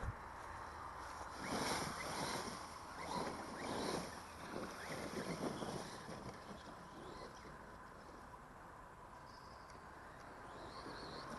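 A T2M Pirate XTS 2S brushless RC boat runs on open water, a faint, distant buzzing whir that swells and fades over wind noise.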